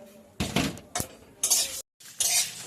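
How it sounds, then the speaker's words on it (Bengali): Whole spices dry roasted in a pan for tamarind pickle, heard as several loud scraping stirs and rattling clatters in bursts with brief pauses, close and with no talk. "মশলাগুলো অল্প"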